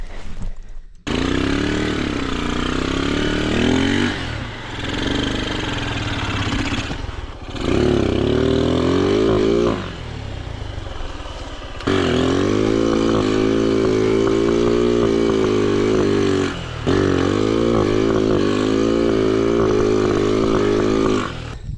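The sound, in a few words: motorcycle engine revving uphill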